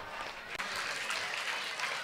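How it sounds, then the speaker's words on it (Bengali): Applause from an audience at an annual prize distribution ceremony, honouring a first-place winner: a steady, dense clatter of many hands clapping for about two seconds. "শান্তন দিগার একটু হাততালি দাও"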